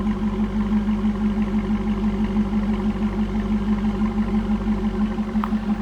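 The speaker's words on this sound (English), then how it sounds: "A little bit of rumble coming out of that Corsa exhaust" A steady, low V8 rumble from a 2003 Chevrolet Corvette's Corsa exhaust idles continuously, deep and even, with a slight throb and no other sounds over it.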